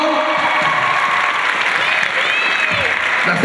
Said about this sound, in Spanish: vamos a dar el último aplauso de la noche a todas ustedes